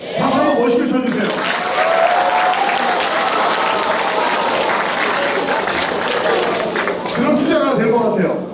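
A school audience of middle school students claps and cheers in loud, sustained applause at a special lecture, filling the room from start to finish, with voices heard briefly at the start and end.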